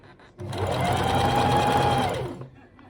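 Sewing machine stitching an ear dart seam on a handmade stuffed toy, one steady burst of fast motor whirring for about two seconds with a rising hum, close and loud.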